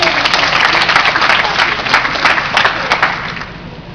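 A youth leadership conference audience applauds a volunteer who stood up, with dense steady clapping and crowd noise filling the room, sharp individual claps popping out above the wash and some voices mixed in.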